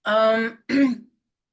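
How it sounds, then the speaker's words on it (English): Someone clears their throat twice in quick succession, loud and close, then silence. "I may clear my throat a few times more than usual"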